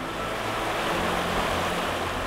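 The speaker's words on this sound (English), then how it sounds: "This is us, crossing a river in the heart of Wyoming's most beautiful country" River water swollen after overnight thunderstorms rushes loudly and steadily during an e-bike crossing in Wyoming backcountry, a dense, continuous roar with no voices.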